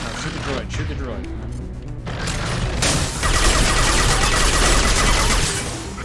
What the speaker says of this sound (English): No, shoot the droid, shoot the droid.